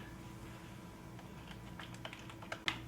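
Keys clatter on a computer keyboard as Java code is typed, a faint, irregular run of soft clicks over room hiss that grows a little busier toward the end.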